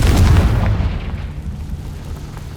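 An explosive Confringo spell detonates in a fantasy wizard game, giving a loud, deep boom right at the start that rolls off into a low rumble over about two seconds.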